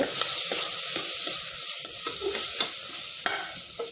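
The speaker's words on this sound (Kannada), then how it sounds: "ಹಸಿಮೆಣಸಿನ ಪುಡಿ ಮತ್ತು ಗರಂ ಮಸಾಲ ಹಾಕಿ ಇನ್ನೊಂದು ಸ್ವಲ್ಪ ಹುರಿಯೋಣ" Chilli powder and garam masala sizzling in a pan for Mughal veg pulao, a steady close fry with repeated scrapes and taps of a stirring spoon.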